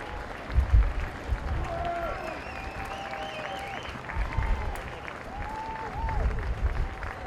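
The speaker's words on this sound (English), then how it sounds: "Feel free to give them a round of applause as they make their way to midfield." Stadium spectators at an international polo match clap as players walk out to midfield, a moderate, steady applause from an outdoor crowd, with a loudspeaker voice and scattered whistles or voices mixed in.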